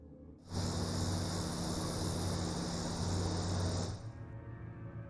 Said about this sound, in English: it was thought that crickets or cicadas, another noise-making insect, were the source of the strange sound. Here's what they sound like.